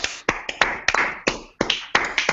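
A standing audience at a live show claps for a man: sharp, distinct claps in an irregular run of roughly a dozen, each ringing with room reverb, close and fairly loud with no talking.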